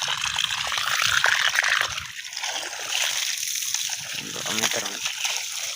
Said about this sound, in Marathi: गेलं आता पाणी सोडून डायरेक्ट.